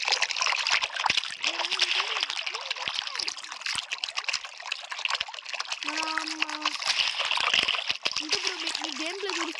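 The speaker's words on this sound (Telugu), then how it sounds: "ఇలా మీరు చూడవచ్చు వాటర్లో వెళ్ళచ్చు." A video game character wades through water, a constant splashing and sloshing that runs throughout, with a child-like voice talking over parts of it.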